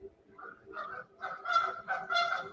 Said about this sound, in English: And here comes the squawking.